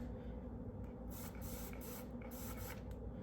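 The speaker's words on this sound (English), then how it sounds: "I'm going to spray this down a little bit" A hand spray bottle mists a spider enclosure in several quick bursts, each a soft close hiss, with short gaps between them and a steady low background hum underneath.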